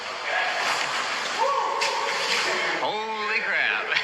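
Moving water splashes and sloshes close by, forming a continuous wash under a voice that talks through most of the stretch.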